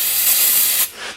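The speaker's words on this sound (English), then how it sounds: "another spray" A single sharp hissing burst from a spray bottle of cleaner, bright and close, lasting under a second before cutting off.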